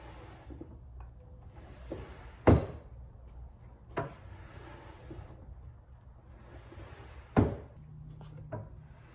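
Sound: modular cabinet drawers loaded with 100 pounds of steel opening

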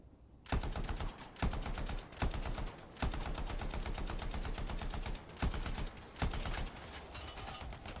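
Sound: gunfire from video game Anthem

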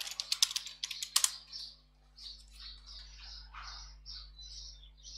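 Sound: typing password on computer keyboard

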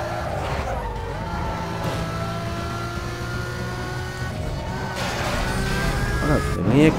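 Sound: Lamborghini engine and skidding in Need for Speed Most Wanted video game

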